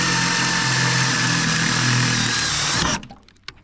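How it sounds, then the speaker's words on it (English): Power drill boring into a Gen 4 snowflap part held in vice grips on a 2014 Ski-Doo Summit XM 800R, a loud steady whine that stops abruptly near the end, followed by a single sharp knock. "I'm gonna come behind here and hold it and start drilling again."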